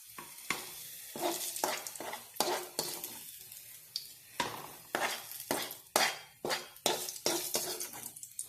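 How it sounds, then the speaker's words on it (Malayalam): Onions for a chicken curry sizzle in a pan and are stirred in a steady rhythm, a spoon scraping and clanking against the metal about every half second, loud and close with a constant frying hiss underneath. "അതിലൂടെ നമുക്ക് ഇളക്കി കൊടുക്കാം. അപ്പോൾ നമ്മുടെ ഉള്ളി വാടി വന്നിട്ടുണ്ട്."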